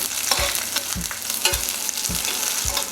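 Sliced green chillies sauté in oil in a pan for a Kerala-style fish curry, with a steady close sizzle and a series of rhythmic scraping stirs about every half second.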